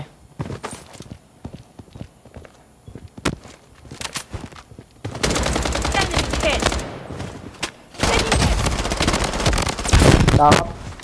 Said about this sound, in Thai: ยิงกันแล้วครับเขาเปิดประเด็นกันแล้ว